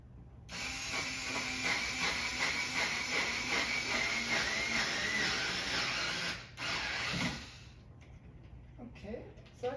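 A power drill whirs steadily as screws are driven into a wall-mounted J-channel for hanging comics, running for several seconds before a brief pause and a short final burst, close by.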